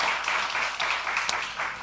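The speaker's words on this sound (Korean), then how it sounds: "환영하는 마음, 우리 성령님 환영하는 마음 박수 한번 할까요?" A church congregation claps in welcome during a New Year revival service, a dense, even patter of many hands sustained throughout, with a sharp louder clap near the end.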